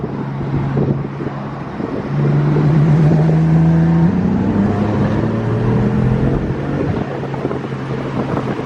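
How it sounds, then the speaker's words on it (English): A BMW F80 M3 engine running rolling anti-lag while driving, a loud, close drone that climbs steadily in pitch and then drops back, with wind noise and no voices. "so let's do rolling anti-lag"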